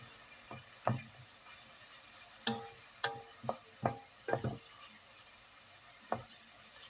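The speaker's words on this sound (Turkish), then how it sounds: "Güzelce soğanlarımızı çeviriyoruz." Onions frying in a pan for celery soup are turned with a utensil, giving sparse, soft scraping clicks about once a second over a faint, quiet background, with no talking.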